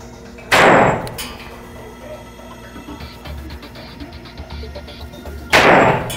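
Two loud, close gunshots at a shooting range in Brazil, each a sharp heavy bang several seconds apart, with quieter background noise and faint talking between them.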